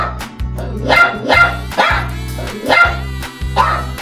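Dogs bark in a quick series of about five evenly spaced yaps over a steady low tonal backing, loud and close.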